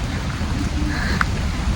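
Steady rain falls outdoors at Hong Kong Disneyland, a dense continuous hiss of drops on surfaces, close and even throughout with no voices.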